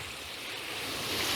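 Water pours steadily into a potted Hmong herb plant in a home garden, a continuous close rushing splash that grows slightly louder toward the end.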